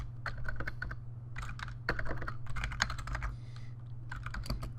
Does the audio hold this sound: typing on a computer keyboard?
yes